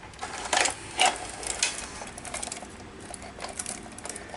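Mechanism of a Sanyo 6800 Betacord VCR with a broken eject button chewing a tape: quiet irregular clattering and whirring, with a few louder mechanical clicks early on, close by and alone.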